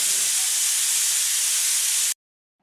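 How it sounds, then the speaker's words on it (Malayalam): Steam hisses loudly and steadily from a pressure cooker after the stove is turned off, a bright continuous rush that cuts off abruptly into silence near the end. "ഇപ്പോൾ സ്റ്റവ് ഓഫ് ചെയ്തിട്ട് കുക്കറിൻ്റെ സ്റ്റീമെല്ലാം പോയിട്ടുണ്ട്"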